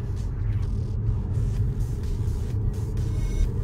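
A Tesla Model S P100D rolls slowly along a highway on-ramp on Autopilot. Steady low road rumble and tire noise fill the cabin with no voices.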